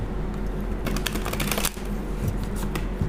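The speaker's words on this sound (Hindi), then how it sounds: "जब तक मैं शफल कर रही हूँ" Tarot cards are shuffled close up in a dry, continuous riffle of papery flicks and slaps, with busier bursts in the middle and no talking.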